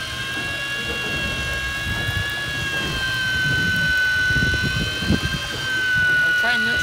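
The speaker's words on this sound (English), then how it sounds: "engine." Fishing boat engine running on the water, a steady droning hum with a sustained whine on top, under a voice and some splashing and clatter.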